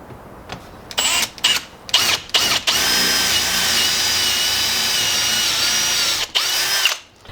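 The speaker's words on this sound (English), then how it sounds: "I'm going to drill down to that depth" An electric drill fires in several short bursts, then runs steadily for a few seconds into wood before stopping, with one last brief burst.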